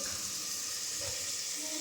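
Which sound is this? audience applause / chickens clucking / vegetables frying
vegetables frying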